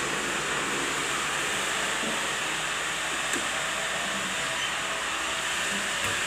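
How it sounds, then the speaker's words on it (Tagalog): A 2 HP warehouse exhaust fan runs after start-up with a steady, even broadband whoosh, continuous and unchanging throughout. "Ito, 2 HP exhaust fan"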